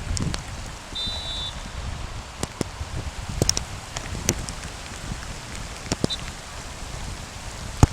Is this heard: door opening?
no